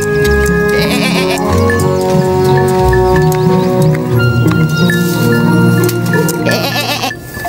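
Goats bleat repeatedly in a farm scene with a grandmother and girl, loud, close wavering cries overlapping one another in quick succession, layered over steady background music.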